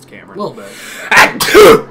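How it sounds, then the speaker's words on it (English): A person sneezes twice in quick succession, two loud, sharp bursts close to the mic following brief speech. "I sneezed."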